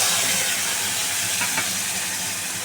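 A spice paste of cumin, coriander, Kashmiri chili powder, turmeric and salt sizzles in hot oil for stuffed pointed gourd, a steady close hissing fry with no voices.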